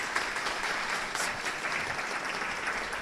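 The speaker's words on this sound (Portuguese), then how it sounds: "os aplausos da plateia também ao candidato" Steady audience applause at a debate for federal deputy candidates, dense clapping filling the room evenly and continuously from start to finish, with no voices standing out.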